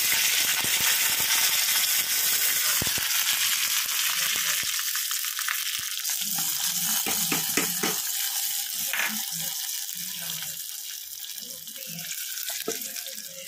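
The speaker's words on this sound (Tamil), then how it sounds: "நல்லா பொரிய விடுங்க, கடுகு நல்லா பொரியட்டும்." Mustard seeds and curry leaves spluttering in hot oil, a dense hiss of sizzling with scattered sharp pops and crackles, loudest early and gradually settling, close by with no speech.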